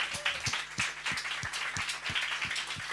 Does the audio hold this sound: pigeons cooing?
no